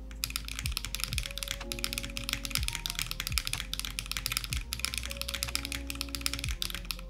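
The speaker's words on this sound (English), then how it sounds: "it's a bright sounding keyboard" Steady close typing on a bright-sounding mechanical keyboard with Cherry switches, a continuous run of crisp clicky keystrokes at an even pace, with a low background hum and no talk.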